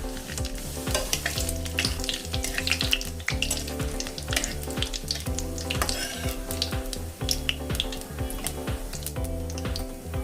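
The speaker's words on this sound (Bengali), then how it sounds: "তেল গরম হয়ে গেছে, আমি এখানে দিচ্ছি একটা তেজপাতা, 2টো শুকনো লঙ্কা, গোটা জিরে, 1 টুকরো দারচিনি আর একটা আমি নিয়েছি এলাচ" Whole spices fry in hot oil for a Bengali cabbage and potato curry: bay leaf, dried chillies, cumin, cinnamon and cardamom. A continuous close crackling sizzle with dense spitting pops runs throughout, no voices.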